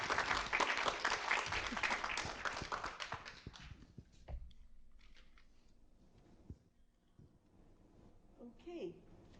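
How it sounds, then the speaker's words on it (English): An audience at an academic and business panel on gender equality applauds, loud and dense for a few seconds, then thins to scattered claps and small handling noises before fading nearly to silence. "So a big applause"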